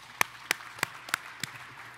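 Five sharp hand claps ring out at an even pace, a sparse, thin round of clapping rather than full applause.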